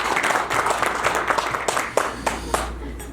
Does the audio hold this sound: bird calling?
no